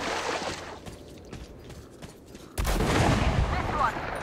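Gunfire in the video game Metro: Last Light, with scattered shots amid game ambience, then a dense, loud burst of firing starting partway through and continuing to the end.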